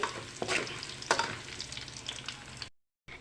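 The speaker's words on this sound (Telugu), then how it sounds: "పోపు దినుసులు ఎండుమిర్చి కరివేపాకు ఇవి వేసి కొంచెంసేపు కలదిప్పండి" Tempering spices, dried red chilies and curry leaves fry in hot oil while being stirred, giving a crackling sizzle with a few sharp scraping strokes before it cuts to a brief silence.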